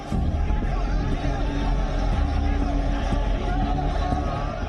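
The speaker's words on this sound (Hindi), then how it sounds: "सड़क के दोनों ओर भारी भीड़ है" A large crowd lines both sides of the road during Mamata Banerjee's march in Bengal, a continuous low hubbub of many voices with traffic rumble underneath, steady and moderately close.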